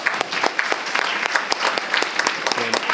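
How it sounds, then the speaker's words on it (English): A school board meeting audience gives steady, dense applause with many overlapping hand claps at close range, holding at an even level throughout. "Let's give them all one more round of applause"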